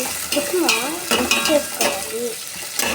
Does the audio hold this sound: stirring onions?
yes